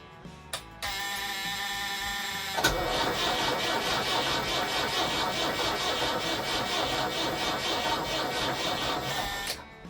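A rebuilt engine that had hydrolocked cranks without catching. The starter gives a loud, steady whirring drone with fast rhythmic pulses that runs for several seconds and then cuts off, close by.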